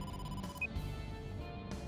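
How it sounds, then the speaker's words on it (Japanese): A telephone rings for an incoming call from the boss in the game AI: The Somnium Files, a steady electronic ring with a short bright tone near the middle, playing over continuous game background music. "だってボスから電話だ。"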